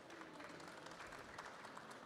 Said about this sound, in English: let's give Mr. Maurice Levy a big round of applause